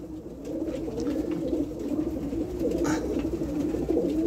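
Several pigeons cooing in a loft, a steady overlapping murmur of soft low coos that fills the whole stretch, close by and continuous with no talking.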